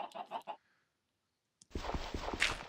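Minecraft chickens cluck in short, bright bursts: a quick cluster of three or four calls, then silence, then busier game noise with more clucks rising over it, with no talk.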